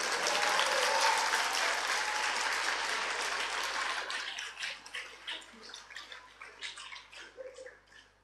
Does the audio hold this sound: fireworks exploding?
no